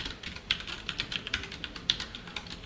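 Keys on a computer keyboard are tapped in quick, irregular bursts of light clicks close by, with no talking.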